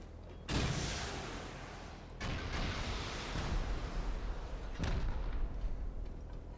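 Gunfire crackles during a video game raid as repeated bursts of shots and booms. The sharp onsets are followed by sustained rumbling, and the sound stays fairly faint and distant throughout.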